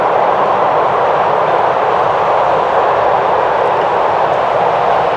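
Constant loud traffic roar from the M1 motorway beside a canal, a dense unbroken broadband wash with no distinct individual vehicles.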